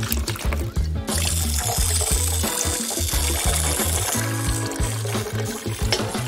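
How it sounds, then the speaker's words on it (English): Water poured into a cat water fountain, a continuous close trickle and splash with low gurgling pulses running steadily throughout and no voices. "Just add water."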